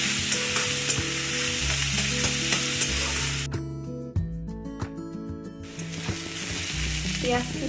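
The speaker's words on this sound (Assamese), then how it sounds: "জুইটো মিডিয়াম কৰি 3 বা 4 মিনিট আমি পিঁয়াজখিনি ৰঙচুৱা হোৱালৈকে ভাজি ল'ম।" Onions fry over medium heat in a pan while being stirred, giving a loud, dense, steady sizzle with scraping that thins out briefly midway, then returns at full strength.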